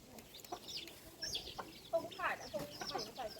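Chickens cluck in short, repeated bursts close by at a rural Thai home, with voices faintly mixed in underneath.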